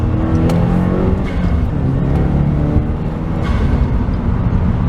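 A car with a Mishimoto air intake and Cobb Accessport accelerates hard in second gear, its engine droning loud and steady with intake roar throughout, close by and with no talking.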